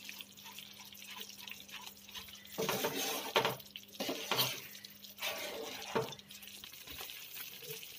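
Spoon scraping and stirring a seven cup burfi mixture with ghee in a pan, close clinks and wet scraping strokes in uneven bursts, with a faint steady hum underneath.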